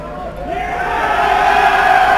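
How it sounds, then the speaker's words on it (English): A large crowd cheers for the Stirling Clansmen at the 2014 national championship final, a broad sustained roar that swells steadily, with a commentator's voice over it. "one last cheer for the Clansmen"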